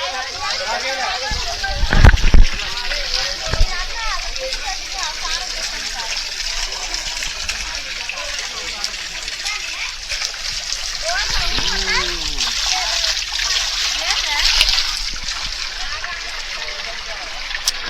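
A hillside forest stream flows and splashes in a continuous wash of water noise, with people talking over it and a few sharper knocks and splashes.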